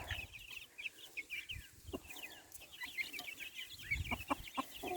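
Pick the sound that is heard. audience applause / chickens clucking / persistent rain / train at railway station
chickens clucking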